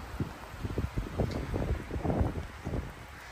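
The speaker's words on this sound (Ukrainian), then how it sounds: "Але вітер сильний. Знову піднімається." Strong gusty wind in the Carpathian Mountains buffets the microphone in low rumbling bursts, with faint rustling underneath and no talking.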